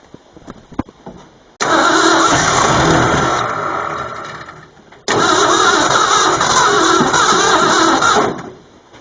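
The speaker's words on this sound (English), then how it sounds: "Now I'll put the plugs back in, see if I can start it" A Ford F150 with a 2-barrel carburetor cranks and catches twice, each time roaring into a loud, rough idle. Both starts are heard close: the first runs a few seconds and fades out, the second keeps running to the end.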